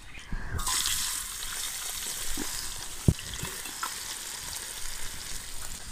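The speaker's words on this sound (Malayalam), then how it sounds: "സവാള നമുക്കൊരു ഗോൾഡൻ ബ്രൗൺ കളറാവണ വരെ വറുത്തെടുക്കാം." Sliced onions hit hot oil in a pan for an Irinjalakuda-style dum biryani and burst into a loud, steady sizzle, with occasional clinks and scrapes as they are stirred.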